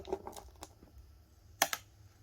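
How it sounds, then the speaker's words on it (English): A couple of sharp little metallic clinks as a gold nugget drops onto a metal pan, followed by faint scattered taps. "Even sounds like metal when it hits the pan."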